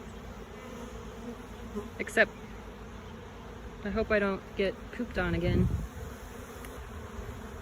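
Honey bees in a swarm keep up a constant buzzing hum around the listener while someone talks briefly over it in short bursts.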